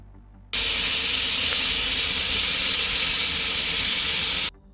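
Steady, loud hiss of steam escaping from a pressure cooker on a gas stove, boiling potatoes and chickpeas, starting abruptly and holding constant for about four seconds before cutting off.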